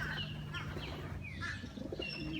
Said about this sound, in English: This is the birds returning home.